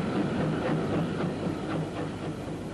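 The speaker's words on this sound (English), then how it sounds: "Pat Whitehouse and John Adams came to film this extraordinary locomotive, kept in magnificent condition after a recent overhaul" Steam locomotive in restored condition running on the Lyme Regis branch line in 1962, a steady rumbling chuff with rhythmic clatter, continuous and fairly loud.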